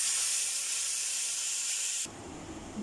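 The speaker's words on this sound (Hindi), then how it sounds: "अब इस स्टेज में हम इसको तड़का लगा देंगे" Hot tadka tempering pours into moong masoor daal with a loud, bright, steady hiss that breaks off sharply into a quieter, low bubbling sizzle.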